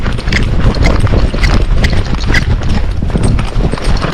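A Tennessee Walking Horse canters under a rider in a training session. Its hooves beat in a steady, fast rhythm that sounds fairly close and loud, with some wind rumble on the microphone. No one speaks over it.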